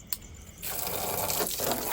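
Water sprays from a low-budget magic hose used for washing motorcycles. After a sharp click, a steady close rushing hiss of spray begins and keeps going with no talking.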